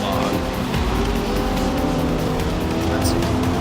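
Race car engines roaring in the video game Forza 6, a dense, loud, continuous drone with overlapping engine tones and a brief high whine near the end.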